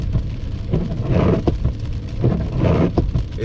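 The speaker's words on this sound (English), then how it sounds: "So this has been like a light to moderate rain for the most part." Light to moderate rain on Las Vegas roads: a steady broadband hiss of falling rain and wet pavement, with soft swells like tires passing, continuous and fairly loud, with no voices.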